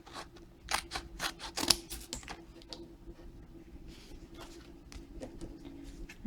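Scissors snipping sticky back paper for a candy jar craft, a series of quick sharp close cuts in irregular bursts, busiest early and tapering to occasional snips against a quiet room.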